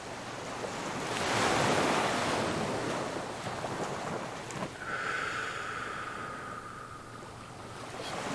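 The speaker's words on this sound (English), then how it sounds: "imagine that wave rolling in and then water flowing back out." Ocean waves roll in with a rising, broad wash that swells and then recedes, with wind rushing across the microphone and no voices.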